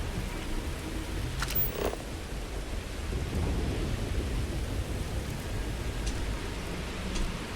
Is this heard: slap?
no